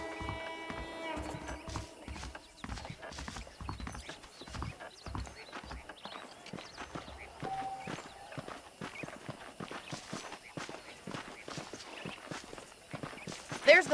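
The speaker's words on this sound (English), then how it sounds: "The horses are saddled up over here." Saddled horses plod along in Red Dead Redemption, with steady hoof clip-clops and footsteps over a long stretch, a brief whinny, and someone talking throughout.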